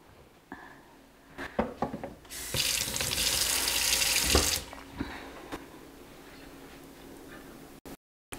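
Liquid pours steadily from a cold brew coffee maker into a pitcher, a loud continuous splashing stream lasting a couple of seconds amid small clicks and handling knocks, then trailing off into quieter drips.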